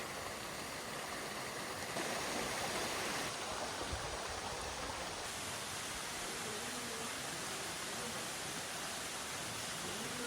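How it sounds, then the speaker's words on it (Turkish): Erikli Waterfall roars as a steady, loud, broadband rush of falling water, unbroken for the whole stretch with no clear voices over it. "Erikli Şelalesi burası dostlar."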